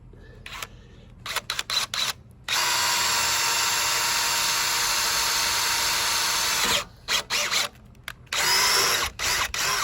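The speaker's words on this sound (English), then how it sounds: "I'm going to drill those holes." A power drill whirs in a long continuous run of about four seconds, preceded and followed by short clicks and brief spurts of drilling, boring holes in a 1998 double jet ski trailer.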